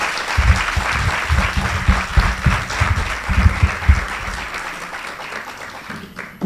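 An audience at an event on accessible digital book production applauds warmly with sustained clapping and low murmurs, tapering off near the end.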